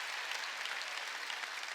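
A church congregation claps together during a Sunday worship service, a steady, even wash of many hands at moderate distance with no voices over it.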